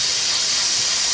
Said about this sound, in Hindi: कुकर को उठाकर मैंने सिंक के अंदर रख दिया है और इसको ठंडा पानी इसके ऊपर चला